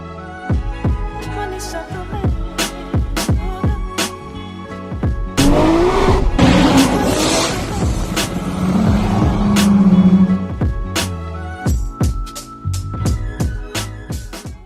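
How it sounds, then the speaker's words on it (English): A McLaren 650S sports car being driven, with the engine revving and changing pitch through repeated sharp gear shifts and a long, loud surging acceleration in the middle. "I got to drive a freaking Mclaren today"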